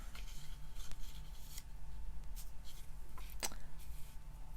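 Scissors snip through craft material in a few short, faint cuts, with soft handling rustles in a quiet room.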